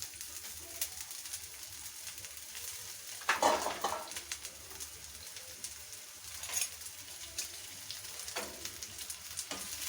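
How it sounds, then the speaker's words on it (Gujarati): Onions sizzling in hot oil in a kadai for a soya dum biryani, a steady crackling fry that swells briefly at moments, with pigeons cooing faintly in the background. "એટલે આપણે બિરયાનીને માટે ડુંગળીને ફ્રાય કરી લઈશું"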